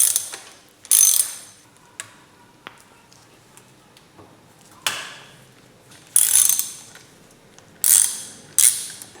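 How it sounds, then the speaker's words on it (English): Screws being loosened on a Yamaha F4 four-stroke outboard motor, with a ratchet tool giving several separate bursts of close, sharp clicking and whirring, spaced a second or two apart with quiet between them. "With the covers removed, I began loosening the screws."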